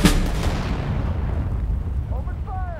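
Artillery cannon fire in the WWII strategy game Sudden Strike 4, set in the North African desert: a loud booming blast at the start decays into a long rumbling tail, with faint chirping effects near the end.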